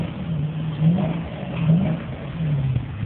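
A Dodge Challenger SRT8 engine revs in a few short blips over a rumbling idle, close and moderately loud.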